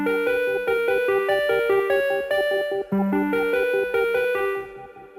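Bright synth pad with a wobbling tremolo plays a lively melody together with a shimmering Fairy Pool synth patch, layered over a bouncing bass line in a Super Mario Galaxy-style arrangement, steady and loud with no voices.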